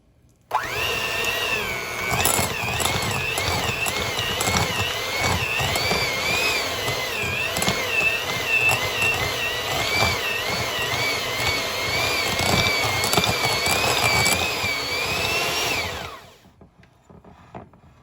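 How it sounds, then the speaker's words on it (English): An electric mixer creams a room-temperature block of cream cheese for churro cheesecake bars, a loud, steady whirring drone that holds for about fifteen seconds and then cuts off abruptly. "And I'm going to start creaming the cream cheese."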